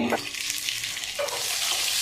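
A short burst of steady, bright sizzling from pointed gourd frying in a pan, close and loud, with a couple of soft scraping touches.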